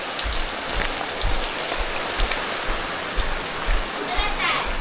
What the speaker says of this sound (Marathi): पावसाने पण सुरुवात केली आहे बघा.